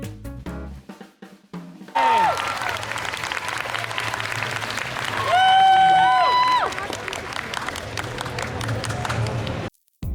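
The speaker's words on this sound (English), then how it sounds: "a round of applause for everyone that participated" Applause and some cheering rise from a crowd at a fan convention, mixed with background music and tonal electronic sounds, the clapping sitting fairly low in a busy, shifting mix before cutting out near the end.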